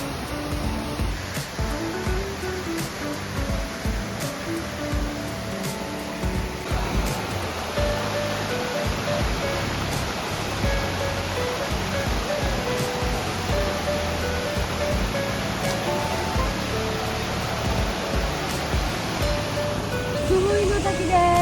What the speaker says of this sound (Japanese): 大きな滝見て